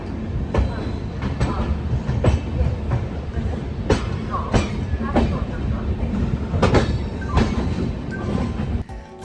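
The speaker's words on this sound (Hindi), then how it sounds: "तो अपने तय वक्त यानी कि सुबह के 4:55 से 1 मिनट की देरी से ट्रेन अमृतसर रेलवे स्टेशन से अब निकल चुकी है।" A Shatabdi Express train pulls out of Amritsar railway station, its wheels beating a steady clickety-clack of rail joints close by, loud and rhythmic, with a sharp thump just before the end.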